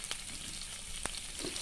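Spices being fried and stirred in a pan for a prawn and bottle gourd curry, a steady soft sizzle with a few faint scraping stirs, close and unaccompanied.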